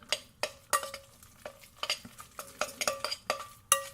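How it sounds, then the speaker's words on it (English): Masa mixed with turmeric being stirred in a bowl for Puerto Rican pasteles, with irregular scraping and clinking strokes close by, some sharper knocks of the utensil against the bowl, no talking. "So this is the masa. You just mix it up, and I like to also use some turmeric,"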